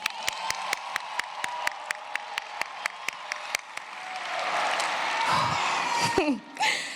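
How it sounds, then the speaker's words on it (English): Crowd at the Southfield A&T class of 2022 high school graduation ceremony, first a slow, evenly spaced rhythmic clapping, then a swelling wash of applause mixed with cheers and whoops, with a voice briefly rising near the end. "can we just start off by giving another round of applause for our graduates?"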